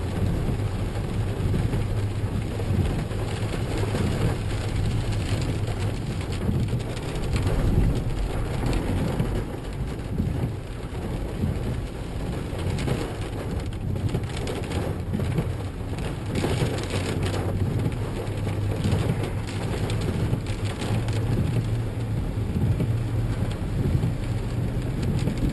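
Heavy rain falls steadily at Crystal Lake during a thunderstorm, with a dense, continuous hiss of drops and low rumbling thunder underneath throughout, no voices present.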